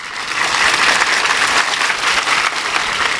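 A crowd gathered in a school courtyard for a ceremony claps loudly and steadily, a dense, continuous roar of hands that holds at full strength before easing slightly.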